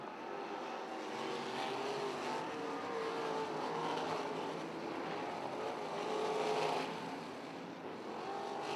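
Wingless sprint cars racing at Beaver Dam, a steady engine roar that swells as the cars come past and fades again, heard from a distance over the open track.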